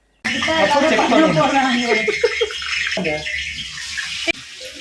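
Water splashes and pours steadily in a home kitchen, starting abruptly and running continuously for several seconds while someone talks over it, ending with a sharp knock.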